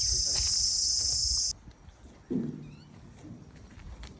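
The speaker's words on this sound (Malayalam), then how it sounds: "ചീവീടിൻ്റെ സൗണ്ട് കേൾക്കുന്നില്ലേ നല്ല ചീവീട്" Crickets chirp in a mango orchard, a loud, steady high trill that cuts off partway, leaving fainter rustling and a brief low animal call.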